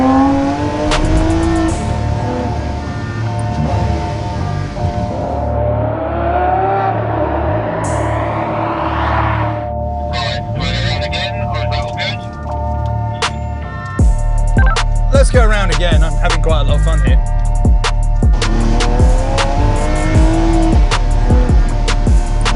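Loud, continuous engine roar inside the carbon-fibre cabin of a 2021 Lamborghini Sián on the road, rising and falling with revs, with sharp clicks of small stones striking the tub and a heavier surge in the second half.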